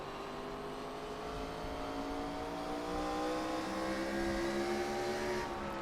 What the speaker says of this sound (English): Let's listen to how much these guys are having to play with this throttle here